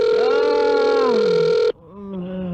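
A telephone rings loudly and steadily in one long electronic trill, breaks off abruptly, then a softer, wavering tone follows.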